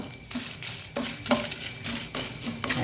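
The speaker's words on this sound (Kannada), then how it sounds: "ಇಷ್ಟನ್ನು ಹಾಕಿ ಸಣ್ಣ ಉರಿಯಲ್ಲಿ ಸ್ವಲ್ಪ ಫ್ರೈ ಮಾಡ್ಕೊಳ್ಳೋಣ. ಉರಿ ಸಣ್ಣದಿರಬೇಕು, ಎಣ್ಣೆಯಲ್ಲಿ ಫ್ರೈ ಆಗಬೇಕಿದು." Coriander and fenugreek seeds frying gently in oil over a low flame, a soft steady sizzle with occasional light stirring scrapes and clinks of a spoon against the pan, close and unbroken by speech.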